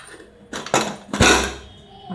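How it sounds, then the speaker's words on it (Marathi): A pressure cooker lid lifted off after cooling, used while cooking rajma: a few sharp metallic clanks and scrapes of the lid against the pot, fairly close and loud, followed by a brief rattle. "झाकण काढते, थंड झालाय"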